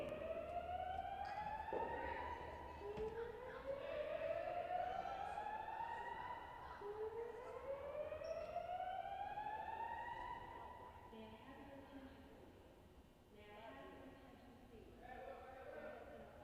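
An alarm sounds inside a theater during a matinee stage performance, with repeated rising siren-like sweeps that continue steadily and fill the space at moderate level, later giving way to a more broken, pulsing tone.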